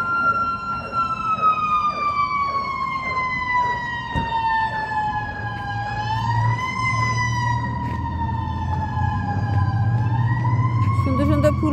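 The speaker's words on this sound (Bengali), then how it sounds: "ফায়ার অ্যাম্বুলেন্স যাচ্ছে মনে হয়।" A fire engine or ambulance siren wails loudly and continuously as it passes outside a library, its pitch sweeping up and down over a low rumbling engine, close and dominant throughout.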